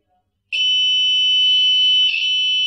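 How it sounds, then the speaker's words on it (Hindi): A SCADA gas leak alarm sounds a steady, loud electronic tone that starts abruptly and holds without a break, with a brief swell near the end and no talk over it. "और अलार्म भी बज रहा है"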